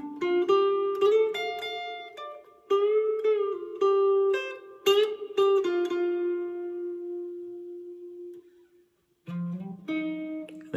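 Electric guitar plays the closing part of a song's solo, from a 6/23/1992 live album, in clean single-note phrases. One long note is held and fades out, a brief silence follows, then a final short phrase is played, close and unaccompanied.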